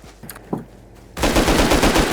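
Rapid automatic gunfire from the video game Rust bursts in loud and close after a second of quiet, with a few faint clicks and thumps beforehand.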